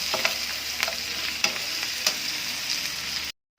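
Garlic, then red and white onions sautéing in hot oil for a chayote vegetable dish, with a steady crackling sizzle and a spatula scraping and stirring the pan at a regular rhythm, close up and without talk.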